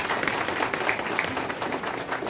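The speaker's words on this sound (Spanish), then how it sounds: "a quien lo recepcionamos con calurosos aplausos," Warm applause greets a university rector at the closing ceremony of a national and international congress of university ombudsmen, a brief, steady burst of many hands clapping together.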